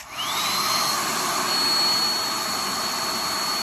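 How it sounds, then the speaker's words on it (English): A handheld blow dryer runs throughout during a wig install on a 5x5 closure wig: a steady, loud, close airy roar with a high whine that rises as it spins up at the start. "Blow dryer."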